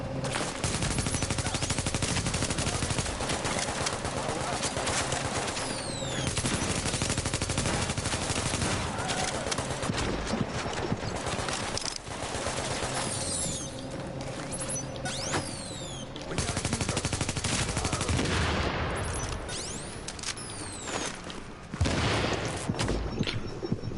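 Dense, sustained gunfire in the video game The Division on PS4 Pro: overlapping rapid bursts and single shots with mechanical clatter, loud and near throughout and briefly easing in places, with no talk.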